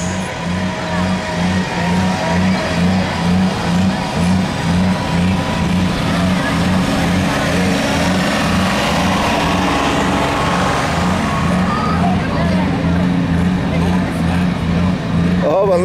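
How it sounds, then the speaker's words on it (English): A John Deere 4255 pro stock pulling tractor runs at a tractor pull, its engine a loud, steady, throbbing roar that rises slightly through the run, with voices talking over it. "So let's see if another Pro Stock Tractor can take this class."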